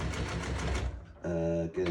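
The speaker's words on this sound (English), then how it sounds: "A good quality sewing machine will do this with very little effort" Sewing machine stitching upholstery fabric, a close, fast mechanical whir that runs steadily, stops briefly, then restarts with a more tonal hum, with a voice talking over it.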